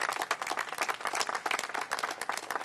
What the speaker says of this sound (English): how about a round of applause for Felicia?